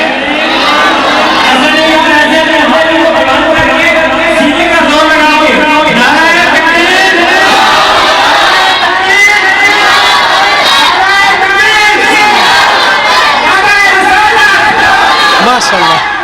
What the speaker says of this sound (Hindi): अगर हम नाराए तकबीर लगाएं एक जान होकर